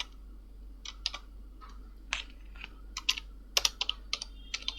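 Someone types HTML code on a computer keyboard, with close, crisp keystrokes in irregular bursts that get quicker toward the end, over a low steady hum.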